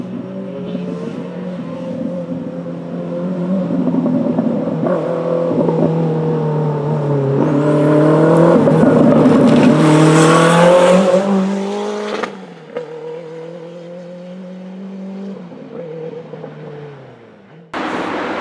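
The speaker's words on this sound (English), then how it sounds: "Thanks to Neil for showing us his Renault 5 Maxi." Renault 5 Maxi rally car engine revving up and holding high, then dropping back to a lumpy idle with a few blips, loud and close with no voices.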